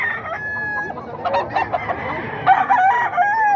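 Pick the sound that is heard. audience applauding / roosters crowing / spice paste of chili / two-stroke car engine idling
roosters crowing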